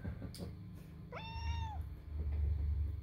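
A cat at feeding time lets out a single clear, drawn-out meow, close and fairly quiet, over low background rumble and faint household noise.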